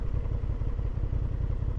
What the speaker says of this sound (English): And that exhaust makes a lovely burble out of it.